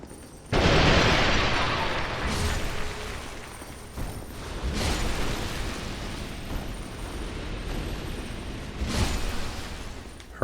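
Exploding enemies bursting in Dark Souls 2, a series of loud booming explosions, about four, each with a rolling rumbling tail, close and forceful.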